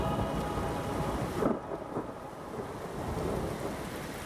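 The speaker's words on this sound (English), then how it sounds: "we're just gonna get the rain" Steady rain pours with a low rumble of thunder, forming the closing section of a song recording by a metal band, heard alone with no voices.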